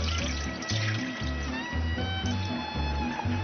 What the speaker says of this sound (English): washing the rice is an important part